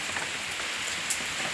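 Heavy rain pours down in a steady, dense wash of hiss with no pauses, loud and close throughout.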